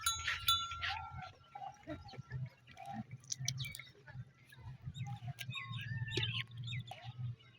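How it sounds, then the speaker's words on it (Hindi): Goats of a high-quality breed bleat on a goat farm in Pakistan, their calls close and intermittent over a steady low rumble, with birds chirping throughout. "यहाँ हमारे पास आला नस्ल की बकरियां मौजूद हैं"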